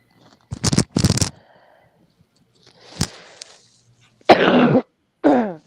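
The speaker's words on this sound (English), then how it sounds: "Sorry if you guys heard me cough." A person coughs several times, two sharp close coughs at first, then a muffled one, then throat-clearing bursts, with quiet gaps between.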